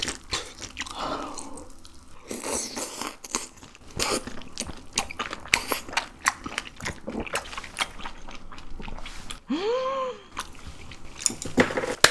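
Crunchy grilled beef intestines (gopchang, daechang) being chewed up close, a run of crisp, loud bites and crackling chews, with a brief squeaky sound near the end.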